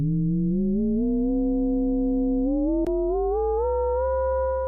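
Omnisphere FM synth tone with key tracking switched on: a steady, pure-sounding sustained note with clean harmonics that steps gradually upward in pitch over several seconds, keeping an even tone colour, with a brief click near the end.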